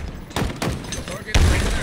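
A grenade blast in Halo Infinite multiplayer lands as a sharp, heavy thud late in the moment, following a few earlier gunfire pops amid busy game noise, with a player's voice talking over it.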